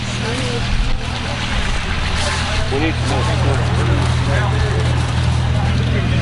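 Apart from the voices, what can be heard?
old tractor engine driving in at farm show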